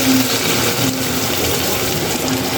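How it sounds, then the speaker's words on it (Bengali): Water poured into a pan of frying ginger, garlic and spices for a beef curry, a loud steady rushing hiss and bubbling up close, with no voices. "এগুলোর মধ্যে এখন আমি একটু পানি দিয়ে দেবো।"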